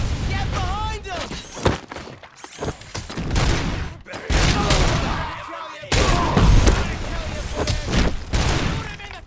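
Loud, dense gunfire in the RoboCop: Rogue City game, repeated bursts and heavy impacts with crashes and booms, mixed under shouting voices throughout.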